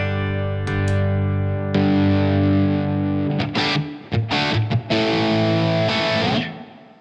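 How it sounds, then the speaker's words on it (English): Electric guitar chords ring out through a reverb pedal, sustained with a washy, effect-heavy tail, then a string of choppy strummed hits that bloom and decay into the ambience, loud and alone. "you start hearing the reverb a lot, and it's very effecty sounding"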